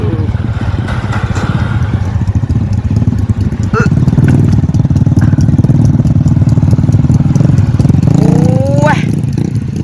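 A motorcycle engine on a hill-climb practice run, loud and close, idles roughly and then revs up hard into sustained acceleration, with people talking over it.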